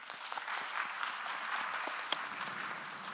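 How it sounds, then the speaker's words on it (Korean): Congregation applause at a Sunday young adults' church service, welcoming a first-time newcomer; brief, moderately faint steady clapping from a room of people. "박수하겠습니다."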